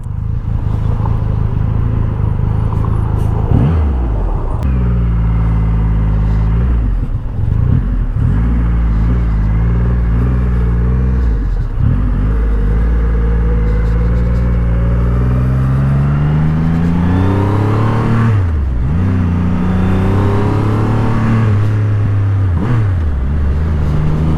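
A deep, loud Triumph Rocket III motorcycle engine rumbles steadily, revving and accelerating through several gear changes, with rising pitch sweeps toward the end.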